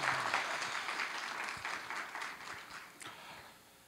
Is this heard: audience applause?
yes